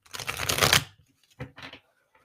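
Tarot cards shuffled by hand in a quick, dense riffle lasting under a second, followed by two shorter soft card flicks, close and clear with no talking.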